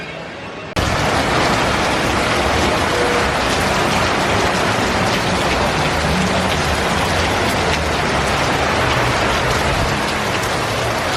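Heavy rain pours down steadily after an abrupt start, a dense, even hiss of drops that continues unbroken for about ten seconds.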